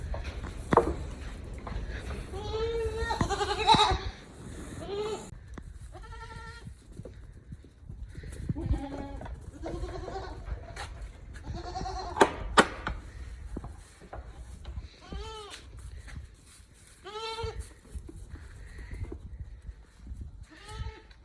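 Goats bleat repeatedly on a farm, mothers and kids calling in overlapping cries spread through the scene, some close and loud, others fainter, over rustling and clattering background noise.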